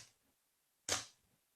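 A camera shutter stays open for a one-second exposure. One sharp, bright mechanical click sounds close and alone in a quiet room, with a faint earlier click just before it.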